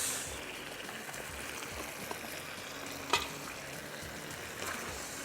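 A spoon stirs matar paneer curry with potatoes in a cooking pot over high heat, giving a quiet, continuous sizzle and scrape with one sharper clink partway through.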